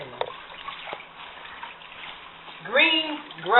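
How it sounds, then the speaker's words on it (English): Collard green leaves get rinsed in a basin of water with soft sloshing and trickling, while a person talks over the washing. "Now we have all our leaves in the water. We're going to go ahead and start rinsing them."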